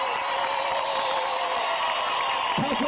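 A dense crowd at a BDP political rally in Nusaybin roars continuously with clapping and cheering blended together, steady and loud throughout, with a few shouts near the end.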